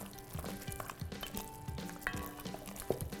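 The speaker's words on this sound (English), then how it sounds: "we're just gonna add a ton of pepper, really as much as you like. Give that a stir." A pot of creamy cacio e pepe pasta loaded with black pepper being stirred, soft scraping and wet sloshing strokes with a faint sizzle underneath, occasional light clinks of utensil on the pot, no talking.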